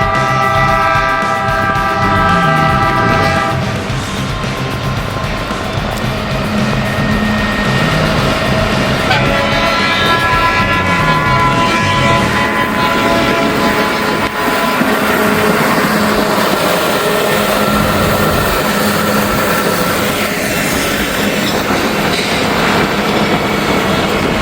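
Trains roll through a railway maintenance work zone in Kentucky while high winds blast the microphone, a loud continuous rumble of rail cars and steady wind roar with a sustained horn-like tone early on, no voices.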